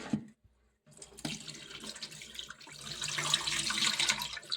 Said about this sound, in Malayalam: കുറേ വെള്ളം ഇങ്ങനെ കഴുകി കഴുകി കളയണം